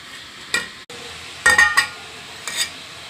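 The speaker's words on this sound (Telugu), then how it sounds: "ఇట్లాగా నూనె ఇలా బాగా మసిలిన తర్వాత ఇట్లా పిండి చేసుకొని అందులో వేసుకోవాలి." Murukku dough goes into well-heated oil: a low steady sizzling hiss with a few brief louder bursts of crackle and clinking from the pan, close by and without speech.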